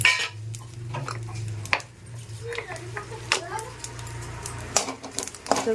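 Cumin seeds and whole spices splutter in a little hot oil in a pan, with scattered crackling pops and metallic clinks against a low hum while a voice speaks in the background.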